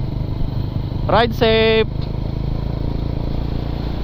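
A big bike motorcycle engine idles nearby with a steady low, throbbing rumble, and a voice briefly speaks over it.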